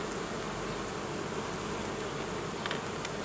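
Honey bee colony droning steadily over hive frames packed with drone brood in July, a dense continuous close buzz with no voices.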